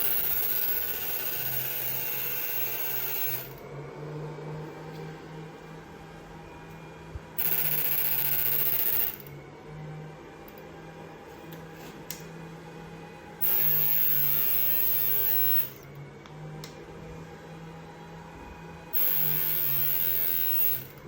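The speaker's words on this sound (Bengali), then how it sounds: "এই মেশিনটি চেক দিয়ে দেখাবো এই হ্যালোজেনের মাধ্যমে মেশিনে কোনো প্রকার সমস্যা আছে নাকি" An electrofishing machine under test with a halogen lamp, a steady electrical hum with static buzz, broken by several louder bursts of harsher buzzing that switch on and off every few seconds.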